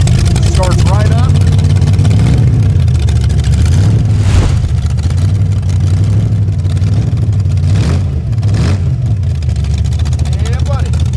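A 1934 Studebaker Dictator engine runs steadily after starting, a loud continuous low rumble throughout with faint speech at times.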